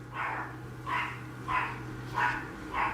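Dogs barking at a steady pace, five muffled barks about every half second, somewhat distant indoors, over a low steady hum, with no talking.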